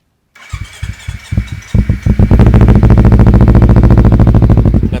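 Kawasaki Ninja 250 FI 2016 motorcycle with a Proliner exhaust, heard close as the starter cranks in short bursts, then the engine catches and settles into a steady, loud, throbbing idle.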